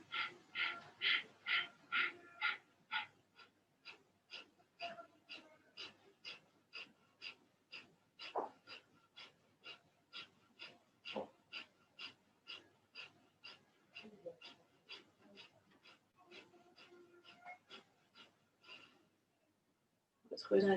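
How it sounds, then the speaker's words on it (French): Rapid rhythmic breath of fire during a yoga session, dozens of sharp forceful nasal exhalations in an even pulse, loud at first then softer, ending with a brief pause and a louder breath. "Respiration du feu."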